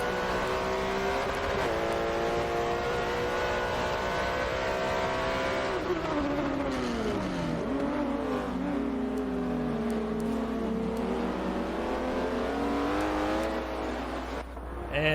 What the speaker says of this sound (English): we are just getting ready to start race 1 at the WEC endurance race.